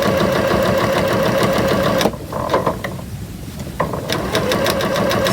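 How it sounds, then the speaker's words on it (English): A sewing machine runs steadily while stitching pieced fabric shapes, a continuous close mechanical whir with a brief pause in the middle before resuming, no talking. "we sew back to the beginning where we started"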